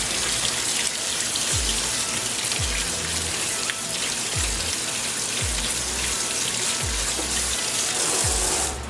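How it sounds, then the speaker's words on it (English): Cold tap water runs steadily into a colander of blueberries, giving a constant hiss and splash, broken by a few soft low thumps as the berries are shaken around. "we're going to dump them into this colander or whatever. So do it like that. Cold water. And just wash them."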